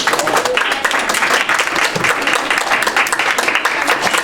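An audience claps loudly and continuously in a dense, fairly close round of applause for a participant at an art-and-stretching session, with a few voices mixed in.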